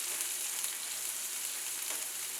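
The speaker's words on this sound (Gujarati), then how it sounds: "હવે આ ડુંગળીને આપણે આની સાથે સાતળી લઈશું।" Two medium onions, finely chopped, sautéing in oil with corn and capsicum in the pan, a steady close hiss of frying with faint crackle and no voices.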